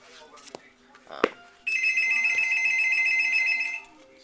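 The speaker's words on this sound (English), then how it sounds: "the phone is ringing a lot" An indoor telephone rings in the background, one sustained bright electronic trill lasting about two seconds, after a few brief knocks and a faint voice.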